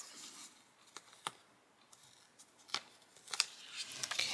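Card paper trimmed close up, faint soft snips and light scraping clicks scattered irregularly over a few seconds, quiet with no talking.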